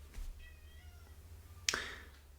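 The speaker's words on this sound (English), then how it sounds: "Sorry, if you hear some sounds in the background, that's my little house cat." A small house cat meows indoors, several faint thin meows followed by one sharp, louder meow near the end, set over a steady low background hum.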